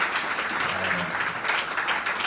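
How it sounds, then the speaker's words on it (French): Audience in a hall applauding for the women present, a steady wash of many hands clapping throughout, with a brief voice murmuring faintly underneath. "j'aimerais d'abord qu'on applaudisse pour toutes les femmes qui sont dans la salle"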